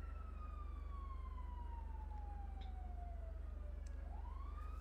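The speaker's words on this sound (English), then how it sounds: "I hear the sirens." Police sirens in GTA 5 wail in a long descending sweep and then begin to rise again. They sound moderately distant over a steady low engine hum, and no one speaks.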